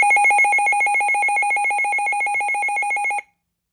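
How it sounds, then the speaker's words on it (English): A weather radio sounds its alert test tone, a very loud, steady two-pitch warbling beep that pulses rapidly and continuously for about three seconds, then stops abruptly, leaving silence. "It's a loud radio, very loud when you do the alert test."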